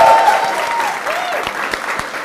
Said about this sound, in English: can we give her one more massive round of applause